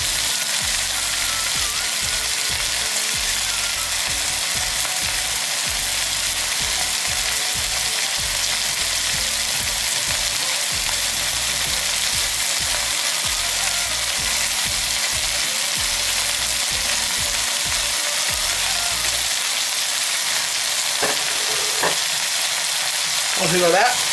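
Lamb karahi frying with masala and chili powder in a pan, a loud continuous hissing sizzle with constant stirring, easing near the end as a few clinks sound.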